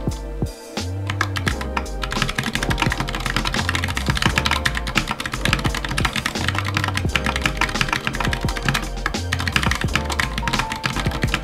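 Rapid, continuous typing on a computer keyboard in Dvorak layout, a dense stream of close, crisp key clicks and thocks with a brief pause near the start, then steady fast keystrokes with no speech.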